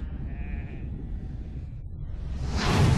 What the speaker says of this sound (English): The sheep are revolting.